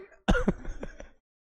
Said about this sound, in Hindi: खांसी हो रही है मेरे तो बहुत